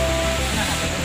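A stream flowing near Mantawila waterfall on a trail damaged by a flash flood, producing a dense, steady rush of water that fills the short clip.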